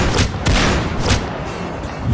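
Rapid volley of gunfire in a ghost story about villagers shooting at a krasue spirit beside a temple, loud repeated bursts and booms packed close together across the whole moment, with no voices.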